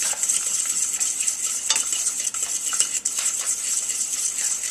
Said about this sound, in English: So now I'm going to start mixing it into my boiling liquid.